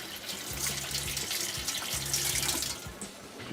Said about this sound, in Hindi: हाथ धो लेते हैं।